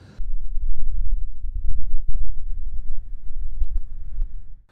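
Strong wind buffets the microphone on the Old John hilltop in Bradgate Park, Leicestershire. Loud, low rumbling gusts rise and fall throughout, starting abruptly after a brief quiet moment.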